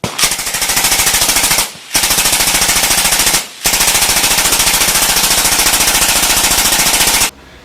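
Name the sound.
automatic firearm firing successive shots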